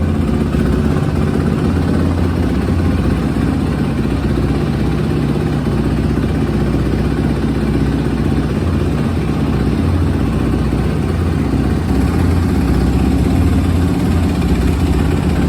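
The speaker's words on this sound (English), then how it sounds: "Got a nice idle now. Rmz250. Sounds pretty strong too for a 250" 2006 Suzuki RMZ250 dirt bike engine idling loud and close after a kick start, a continuous rough, even putter with no talking.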